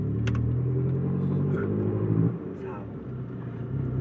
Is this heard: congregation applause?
no